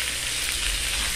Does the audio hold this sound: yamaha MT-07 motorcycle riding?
no